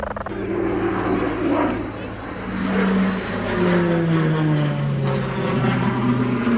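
Tucano turboprop training aircraft flying at Cosford Airshow 2019, a loud droning propeller and engine roar with shifting, sliding pitch as it passes, under a voice talking throughout.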